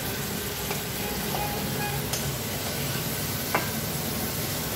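Prawns frying in a pan with a dense, continuous close sizzle and hiss, a few sharp spitting pops, steady and unbroken throughout.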